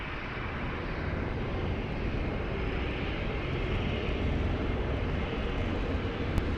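An airliner taking off from runway 20 at Lisbon Airport, a steady broad roar of jet engines holding at a constant moderately distant level, no voices.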